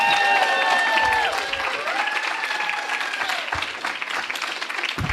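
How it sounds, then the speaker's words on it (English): A studio audience greets an actress with a warm round of applause and light cheering, dense clapping with a sustained tonal note underneath, strong at first then easing somewhat. "a rousing applause for Sofia Boutella making it"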